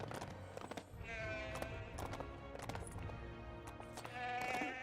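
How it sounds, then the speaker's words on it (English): A goat bleats in the LEGO The Hobbit video game, several wavering, nasal bleats in a row, fairly close and clear over soft game background sound. "Oh, I can ride a goat."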